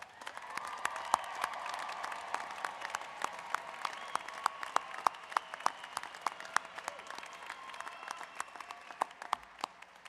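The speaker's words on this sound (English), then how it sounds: "one more big round of applause" An audience at a University of Northern Colorado graduate commencement ceremony gives a sustained round of applause, dense overlapping clapping that holds steady throughout at a moderate distance.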